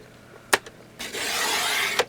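A paper trimmer slices through a letter-size sheet of card stock, with a sharp click near the start, a second faint tick, then a steady rasping cut lasting about a second that ends in a snap of the blade.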